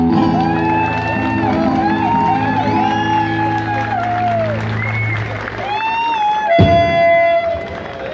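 Festival audience applauding and cheering at the opening of a show in a cathedral in São Borja, with dense steady clapping, whoops and crowd noise under sung or chanted voices throughout.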